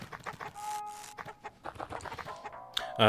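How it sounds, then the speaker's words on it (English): In the video game LISA, a hen clucks in short repeated bursts with a brief squawk, close and clear against a quiet background, ending with a louder game sound. "We found his prized gold hen."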